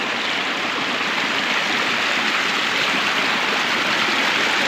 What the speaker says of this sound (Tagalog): Parang falls, pero maliit lang.